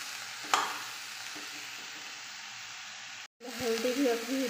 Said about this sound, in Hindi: अब सब्जी को अच्छे से चला देना है।